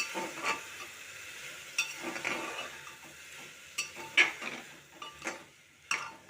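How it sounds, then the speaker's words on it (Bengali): A spoon stirs a pea and potato curry seasoned with turmeric and salt in a pan, giving soft scraping and scattered sharp clinks over a faint sizzle, fairly quiet and close. "এবার একটু ভালো করে নাড়িয়ে নেব"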